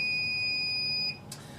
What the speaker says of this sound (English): So we're going to hold it up flush, and it's going to start beeping at breakers.